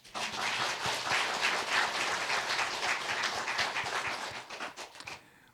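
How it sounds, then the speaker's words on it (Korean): A church congregation applauds during a service, a lively, dense round of many hands clapping for about five seconds that thins and stops abruptly, with a low hum underneath and no talking. "오늘 하루 신 하나님께 영광의 박수 올려드리겠습니다"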